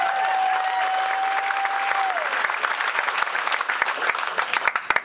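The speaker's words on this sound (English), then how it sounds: "a round of applause" Steady applause from a crowd, dense clapping that holds for several seconds with a faint whistle near the start, then thins slightly toward the end.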